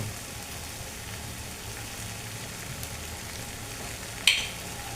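Potatoes and green peas being sautéed in a pan for an aloo curry, a soft, faint, continuous sizzle with a single sharper clink of a utensil near the end.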